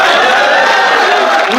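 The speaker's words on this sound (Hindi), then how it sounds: "तालियां अब बजाइए।" Dense, steady audience applause at a Hindi poetry recital, a loud sustained wash of clapping that fills the whole stretch with no voices over it.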